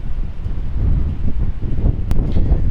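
Strong wind buffets the microphone outdoors during a drone flight test in 40 mph gusts, a loud continuous low rumble with rising and falling gusts and one sharp brief click near the end.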